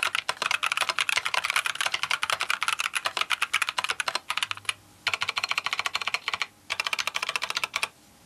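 Rapid typing on a Keychron Q10 Alice-layout keyboard fitted with Gazzew Boba U4T tactile switches gives a dense, close stream of crisp keystrokes, alone, with two brief pauses near the end.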